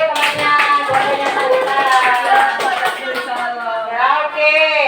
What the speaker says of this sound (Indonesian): Tepuk tangan oke temannya,